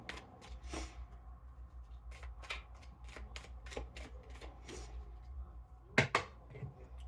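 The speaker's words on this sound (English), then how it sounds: "Shuffle one more time and they are ready to be heard." Tarot cards are shuffled close up in quick riffling bursts, then a sharper flurry near the end as the deck is squared.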